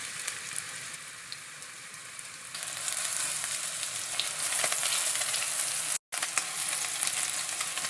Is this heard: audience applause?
no